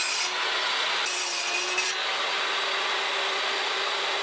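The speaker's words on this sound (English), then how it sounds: "And then just cut them down on the table saw." A table saw cuts down wooden boards from old doors with a loud, steady, continuous whirring roar that stays even throughout, with no talk.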